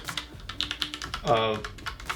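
Keys clatter in quick, irregular strokes on a Logitech POP Keys keyboard with brown switches, close and fairly soft, with light tactile clicks and a faint voice under the typing.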